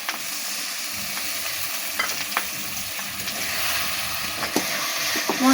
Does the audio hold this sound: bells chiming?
no